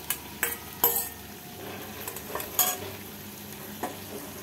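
Fried vegetables are stirred into a spice mixture in a pan, with soft frying sizzle under repeated scrapes and a few louder knocks of the spatula against the metal.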